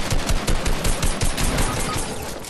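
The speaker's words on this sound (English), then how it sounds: "my fucking AR was just shooting right at him" Assault rifle gunfire in the Fortnite video game: a loud, close, rapid stream of shots fired in quick succession over a couple of seconds, with no voices.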